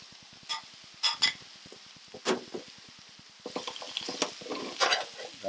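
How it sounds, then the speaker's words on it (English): Onions softening in a pan for a gluten-free vegan lentil pasta. A low, quiet sizzle sits under repeated scrapes and clinks of a utensil stirring, growing busier toward the end. "Want to soften up the onions a little bit."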